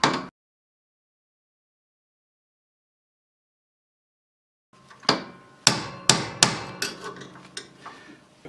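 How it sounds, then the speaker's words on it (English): A brief knock at the start, then silence, followed by a run of sharp metallic carpentry-hammer blows on a punch against a bearing race, about a dozen, gradually fading. "I know I'm using a carpentry hammer and I know I'm hitting it sideways"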